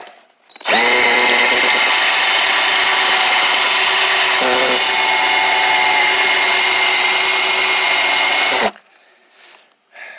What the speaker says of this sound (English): Now I'm going to drill on the rivet head